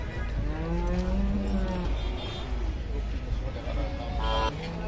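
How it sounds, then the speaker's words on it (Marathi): Cows low with drawn-out moos at a Khillar cattle market in Sangola, Solapur, one long call followed by shorter ones amid a crowded, noisy backdrop with vehicle rumble and voices nearby. "पाहू शकता व्यापारी वर्गाने घेतलेले गाई"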